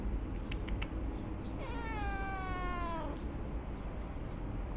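A stray village cat gives one drawn-out, wavering meow at close range, with a few light taps just before it over a steady background hum.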